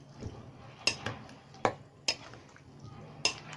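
Sweet peppers being stirred in a bowl for pickling, with a few distinct clinks and scrapes of a utensil against the bowl at irregular intervals, close and faint, with quiet background.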